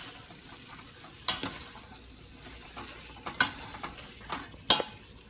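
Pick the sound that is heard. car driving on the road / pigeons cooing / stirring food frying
stirring food frying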